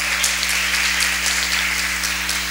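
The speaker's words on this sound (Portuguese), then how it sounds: "Eu peço uma salva de palmas para todos vocês." Steady applause from a crowd at a university anniversary ceremony in Brazil, a dense wash of many hands clapping continuously over a low constant hum.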